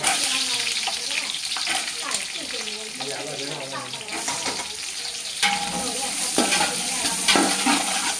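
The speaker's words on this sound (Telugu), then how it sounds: "ఆనియన్స్ బ్రౌన్ కలర్ వచ్చే వరకు వేపుకోవాలండి." Onions and green chillies sizzle steadily in hot oil for chicken dum biryani, with scraping stirring sounds close by and a few louder bursts of frying.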